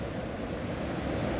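A waterfall on a river seen from a lookout, a dense steady rushing roar of falling water heard continuously at moderate distance, with some wind noise and no voices.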